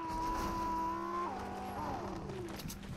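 Car from the video game Fortnite driving and skidding, a steady engine tone that bends and wavers as the tires slide, loud and close, with no talk over it.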